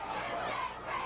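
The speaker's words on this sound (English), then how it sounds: "We have got a fired-up stadium here" A packed stadium crowd roars and cheers at a 1994 Colorado state 5A boys high school soccer championship, a continuous wash of voices rising and falling.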